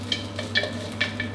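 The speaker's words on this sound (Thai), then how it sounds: "พอเราเริ่มคั่วไปสักแป๊บนึงสังเกตว่าจะเริ่มมีน้ำมันออกมาแล้วครับ" Crispy pork being stir-fried in a hot wok, with short scraping stir strokes recurring about every half second over a steady sizzle, close and alone.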